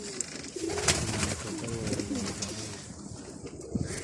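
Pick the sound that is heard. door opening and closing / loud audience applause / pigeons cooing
pigeons cooing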